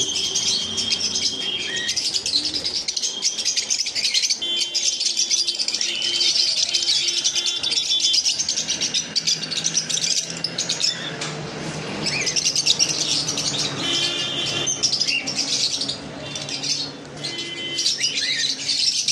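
Pet conures, including red-factor birds, chirp and squawk continuously in a nearby aviary among lovebirds, white cockatiels and other pet birds, with overlapping shrill calls, rattling chatter and occasional wing flutters.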